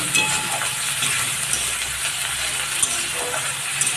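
Cumin paste and green chilli being stirred and fried in a pan for a light shingi fish curry, a steady close sizzle broken by occasional small scrapes and clicks from the stirring.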